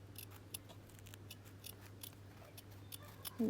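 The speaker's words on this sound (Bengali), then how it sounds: "সুন্দরভাবে আমি কেচি দিয়ে গলা ডিজাইনটা কেটে নিচ্ছি" Scissors cut fabric to shape a dress neckline, a string of quiet, crisp snips at an uneven pace, close by and alone, ending in a slightly louder rustle.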